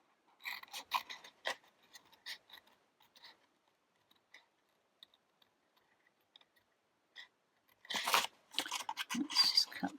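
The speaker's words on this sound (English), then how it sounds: "And I'm going to cut the wing." Scissors snip through card while a wing shape is cut out for a handmade saxophonist card: a burst of quick close cuts, scattered faint ticks, then another dense run of snipping at the end.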